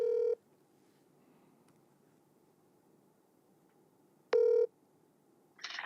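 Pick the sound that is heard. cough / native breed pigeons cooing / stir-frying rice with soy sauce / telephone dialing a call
telephone dialing a call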